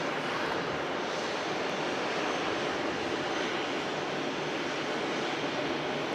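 An EasyJet airliner arriving at Manchester Airport gives a steady, broad jet roar, fairly distant and even in level, with no voices present.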